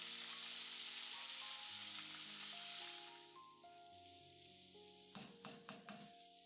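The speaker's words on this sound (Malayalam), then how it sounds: "ചതച്ചു വെച്ചിരിക്കുന്ന കൂട്ട് ചേർത്ത് നല്ല മൂത്ത മണം വരും വരെ മൂപ്പിക്കുക" Coconut pieces and a crushed spice mix fry in hot oil for a Kerala chicken liver fry, giving a loud steady sizzle that fades partway, with sharp scraping stirs near the end over music-like tones.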